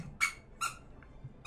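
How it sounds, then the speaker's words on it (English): A dog squeaks indoors in short, high chirps, three or four quick separate yelps spaced apart at moderate volume against a quiet room. "Ignore my dog. He is squeaking around."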